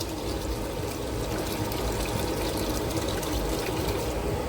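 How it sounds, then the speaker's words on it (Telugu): Rice-washing water poured into a bucket, saved for watering plants; a steady, close splashing pour runs without a break and with no talk. "మేము బియ్యం కడిగిన నీళ్ళని కూడా వేస్ట్ చేయకుండా చెట్లకైతే పోయడానికైతే బకెట్లో వేసుకుంటున్నాము"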